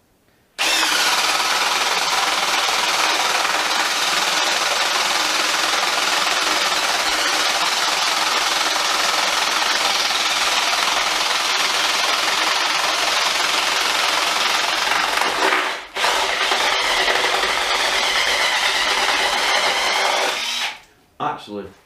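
A RIDGID hydraulic impact driver spins a Bosch self-feeding bit into wood with a steady, loud whirring drone lasting nearly twenty seconds, broken by one brief dip partway through before it stops.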